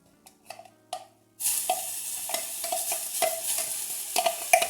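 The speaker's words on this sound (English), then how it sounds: "our pan's hot now. What we want to do is go in with the onions." Onions tipped into a hot pan: a few light clicks and handling noises in near quiet, then a sudden bright sizzle that bursts in and carries on steadily with small stirring taps, close and loud.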